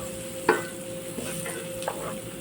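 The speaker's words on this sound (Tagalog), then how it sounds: "Igigisa lang natin ng mga ilang segundo na mag-translucent lang yung kulay ng ating sibuyas." Onion sautéing in a pan, giving a continuous close sizzle with a couple of brief stirring clicks and scrapes.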